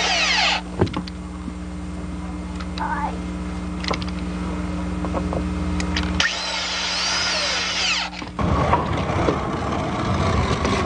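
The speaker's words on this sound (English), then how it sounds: "we'll now screw the hanger to the panel approximately 18 inches on center" Power drill driving screws through a hanger into a garden room panel, steady close motor whine with short bursts and a change in pitch toward the end.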